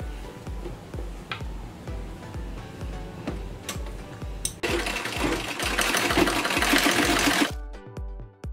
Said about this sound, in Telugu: ఇలా వెనక్కి తిరిగేసి పైన కుట్టు వేయాలి.